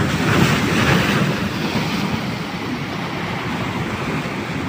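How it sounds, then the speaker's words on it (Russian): Sea waves wash onto the shore in a loud, steady roar, with wind buffeting the microphone and no voices. "Ай, посмотрите, какое море."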